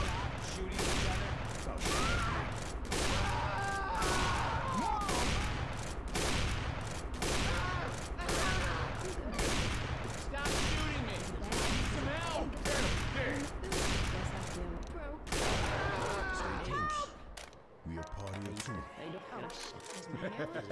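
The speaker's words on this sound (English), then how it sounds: "Can we stop shooting each other?" Rapid, dense gunfire from the zombie shooter Left 4 Dead runs almost continuously, loud bursts crowding together with overlapping players' voices talking over the shots, briefly thinning near the end.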